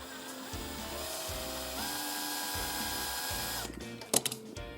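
Power drill whirring on a diecast model car, a steady motor whine that steps up in pitch a few times, then cuts off into a couple of sharp clicks and handling knocks.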